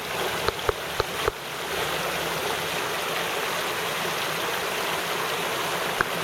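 A swollen creek after heavy overnight rain rushes in a steady, loud, broadband roar, close by, with a few sharp knocks near the start and one near the end.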